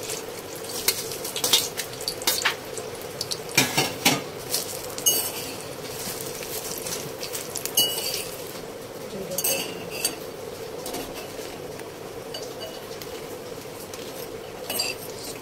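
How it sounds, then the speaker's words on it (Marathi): Red chillies roasting in oil in a pan for Mangalore-style chicken sukka, with soft crackling and intermittent clinks and scrapes of a spoon against the pan, close up and with no talking. "तेलामध्ये आपण या मिरच्या घेतलेल्या आहेत ना, त्या सगळ्या टाकू आणि भाजून घेऊ।"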